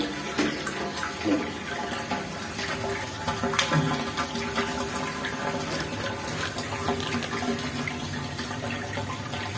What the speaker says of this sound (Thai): นี่จะลองเปิดน้ำดู